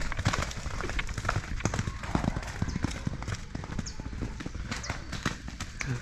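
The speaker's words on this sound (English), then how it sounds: "Horses." Hooves clip-clop in a quick, uneven patter, several horses on the move nearby in Buenos Aires, with people talking over them and steady background noise.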